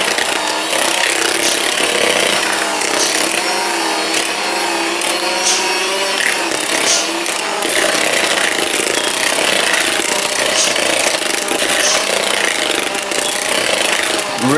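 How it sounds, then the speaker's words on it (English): An Aldi Ambiano cordless hand mixer on speed 1 runs with a loud, continuous close whir as its motor bogs down under load. "You can see it slows down really fast and it bogs down quite fast."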